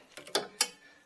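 Torque wrench tightening a lower control arm bolt on a Chevy Cobalt, a few quick faint mechanical clicks in a short burst, heard alone.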